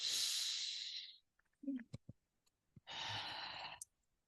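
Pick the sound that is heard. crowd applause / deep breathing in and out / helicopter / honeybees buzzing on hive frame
deep breathing in and out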